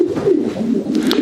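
A black racing pigeon hen, a national ace, coos in a loft in Belgium: a steady, close, low throaty coo rolls on continuously, with no talking.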